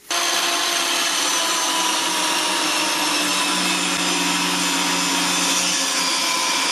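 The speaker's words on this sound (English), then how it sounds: "To cut the 4 pieces on the outside, I'm using my chop saw at a 30-degree angle." A chop saw cuts wood at a 30-degree angle for a honeybee trivet, a loud, steady, high whining buzz that starts abruptly and holds without a break, with no talking.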